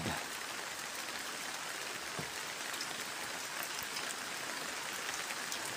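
Steady rain patters down continuously, a dense hiss of drops on surfaces beside a flooded creek, with no voices.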